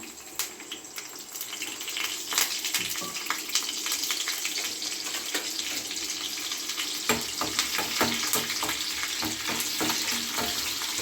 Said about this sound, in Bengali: আমি সবটা দিয়ে সাঁতলে নেবো একটা